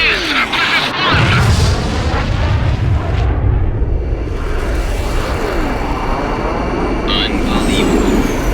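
A massive explosion as a fortress is destroyed in the flight combat game Ace Combat X, with deep rumbling booms and roaring jet engine noise throughout, sustained and loud, with excited voices calling out over it.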